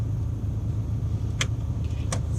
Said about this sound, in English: while you've got the engine running actually, and we know that the car is safe, we've got the handbrake on